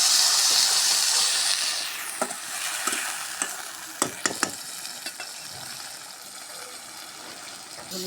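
Onions fried until reddish in a pan hiss loudly as a little water goes in, the steamy sizzle fading over several seconds while a spoon clinks and scrapes against the pan now and then.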